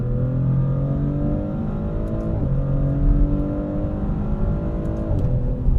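Maserati GranTurismo Trofeo engine pulling hard under acceleration, its steady loud drone rising in pitch and stepping down sharply at upshifts around two and four and a half seconds, heard from inside the car with no talking.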